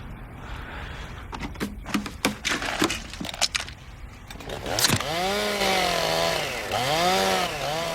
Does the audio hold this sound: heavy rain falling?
no